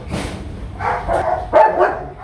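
A young male yellow bobtailed village dog gives a few short, close barks in quick succession, fairly loud, with no talking over them.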